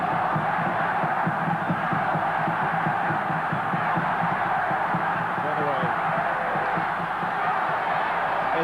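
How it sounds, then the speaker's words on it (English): A home crowd at a 1981 World Youth Championship football match between Australia and Argentina roars and cheers in a broad, sustained wash of noise. A commentator talks over it throughout. "Support from the home crowd here."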